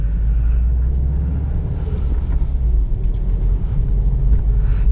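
A 2020 Subaru WRX STI engine rumbles low and steady just after nearly stalling, heard from inside the car with constant road and wind noise and no talking.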